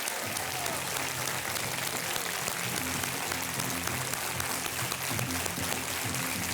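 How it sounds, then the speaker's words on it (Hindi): Dense, sustained applause from a large studio audience on the game show Kaun Banega Crorepati, welcoming contestants, steady and loud throughout with no break. "जोरदार तालियों के साथ मैं चाहता हूं कि स्वागत किया जाए आज के हमारे 10 नए कंटेस्टेंट्स का"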